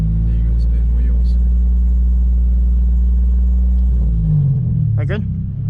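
A 2009 Mitsubishi Eclipse GT rolls forward with a loud, steady low engine rumble that holds, then dips and shifts pitch near the end, with voices talking over it at close range.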